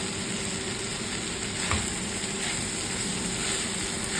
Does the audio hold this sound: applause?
no